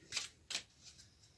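Oracle cards riffled and drawn by hand, two quick papery bursts of shuffling followed by fainter soft card slides, close and quiet with no voice.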